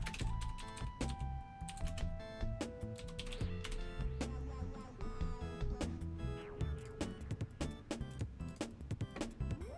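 Rapid typing on a computer keyboard, a dense run of close, sharp key clicks in uneven bursts with a faint electronic tone in the background, lasting about ten seconds.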